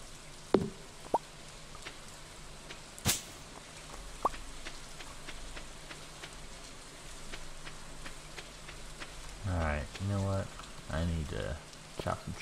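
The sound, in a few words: rain falling in Stardew Valley video game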